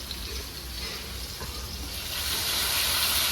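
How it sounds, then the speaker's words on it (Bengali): Water is poured into a pan of frying chicken for doi chicken. It sets off a broad steamy hiss that swells louder toward the end, with no talking over it. "জলটা দিয়ে দেবো।"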